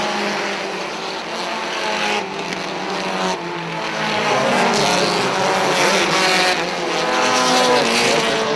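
Race cars roaring around an oval track, a continuous loud engine drone that swells as the pack passes side by side, with no talk over it.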